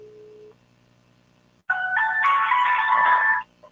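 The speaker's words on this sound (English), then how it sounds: "Okay, the phone is ringing." A telephone ringtone plays a bright, loud melodic tune for about two seconds after a short quiet pause, heard during a morning radio broadcast.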